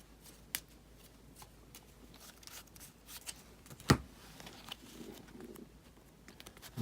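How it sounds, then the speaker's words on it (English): A deck of cards shuffled during a Lord of the Rings Journeys in Middle-earth board game, faint quick riffles and taps close by, with one sharper snap midway. "So for Aragorn, shuffle and he'll get 3."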